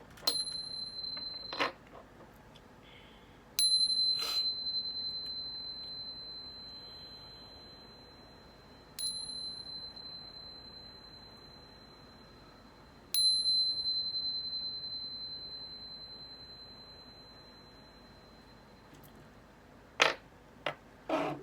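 Bright chimes struck several times, each ringing out and slowly fading in a quiet room, with a fresh strike every few seconds and a quick cluster near the end.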